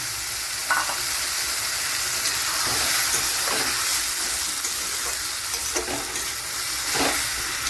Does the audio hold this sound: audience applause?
no